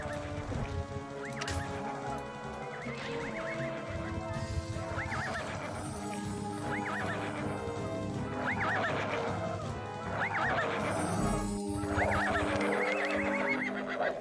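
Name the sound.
horse neighing and hooves in the video game Ultima Online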